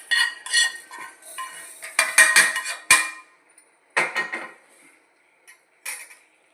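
Fried chillies being scraped from a pan into a steel mixer jar, with sharp metallic clinks and scrapes of a spoon against metal in short bursts and brief pauses in between, close and clear.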